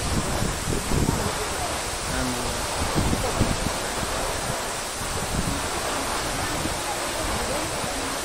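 Water rushes at Mohini waterfall in Nepal, a steady broadband roar up close with intermittent wind buffeting on the microphone and someone talking over it.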